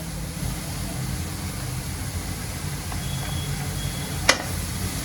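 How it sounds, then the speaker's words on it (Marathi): Masala ground spices with garam masala, coriander-cumin powder, red chili and black pepper being sautéed in a pan for village-style mutton curry, a steady close sizzle with one brief scrape of a spoon; no talking. "मसाल्यांना चांगला मी परतून घेते"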